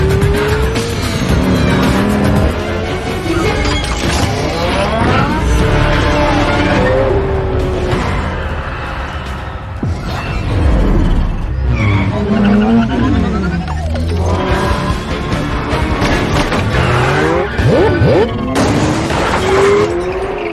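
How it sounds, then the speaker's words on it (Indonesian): McLaren 720S fleeing at speed in an action film chase, with loud squealing, skidding tires and roaring engine over a sustained stretch, overlaid by a dense score and occasional voices. "Deckard, Hetty dan Hobbs pergi melarikan diri menaiki mobil McLaren"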